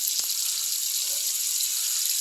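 Water gushes from a tap into a sink, a steady hiss throughout with a brief clunk near the start as the handle is adjusted, with no talk.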